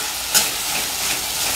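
Chopped medium tomato tipped into a hot pan for a dry karandi shrimp fry, giving a loud steady sizzle and hiss with a brief burst as it lands, then continuous frying with light stirring.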